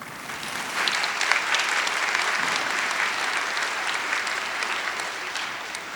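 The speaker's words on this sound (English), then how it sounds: "Please join me in thanking all of these musicians and students with a warm round of applause." A large audience at a college commencement ceremony claps continuously, a dense, even wash of applause that holds steady throughout with no talking over it.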